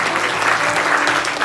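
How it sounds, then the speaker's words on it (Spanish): A church congregation claps hands as an offering of praise during a Spanish-language service, dense and loud continuous applause throughout, with faint voices mixed underneath. "Quiero darle una ofrenda de palmas al Señor."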